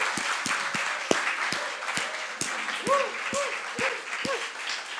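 A church congregation at a Thanksgiving service claps steadily throughout, with short, sliding vocal tones rising over the applause.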